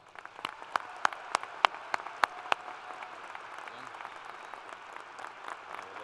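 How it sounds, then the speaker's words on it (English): An audience at a university fall commencement ceremony gives scattered applause, with a few sharp, distinct claps standing out over a soft, distant clapping crowd that fades toward the end. "Please join me in a big round of applause."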